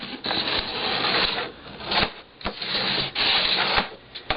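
Scored paper for a gatefold mini album is folded and creased by hand, producing close, soft rubbing and sliding strokes in several short bursts, with no talk.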